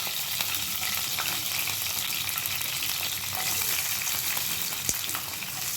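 Tempering seeds, green chillies and onions fry in a pan for moong dal with leafy greens, a steady, close, loud sizzle with occasional crackles and one sharp pop near the end.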